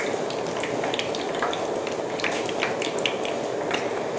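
Banana fritters fry in hot oil with a dense, even crackle and spatter. Fine pops tick irregularly over a constant hiss, close and moderately loud, with no voices.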